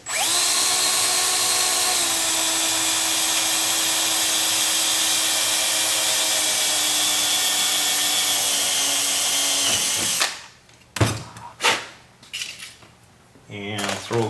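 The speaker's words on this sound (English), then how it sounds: "you can just drill it right on here as long as you're careful" A power drill whines steadily for about ten seconds drilling holes in an aircraft horizontal stabilizer rib, then stops, followed by sharp metallic clanks and rattles of tools being handled.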